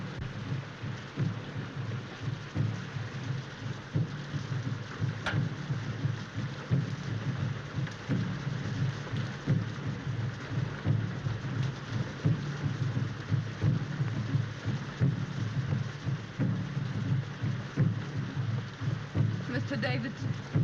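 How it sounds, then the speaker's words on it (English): Heavy rain pours steadily with low thunder rumbling throughout, a dense, constant downpour carrying occasional sharper cracks and rolls, with no voices. "This rain and those drums."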